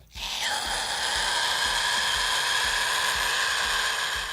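Harsh, raspy vocal sound held steadily for several seconds, a gritty breathy roar without words.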